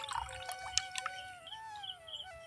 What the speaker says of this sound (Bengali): তো এই লিকুইডটা এখন আমি এখানে ঢেলে নিচ্ছি এই রকম একটা পাত্রে নিয়ে নিচ্ছি